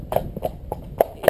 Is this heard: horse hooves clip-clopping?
yes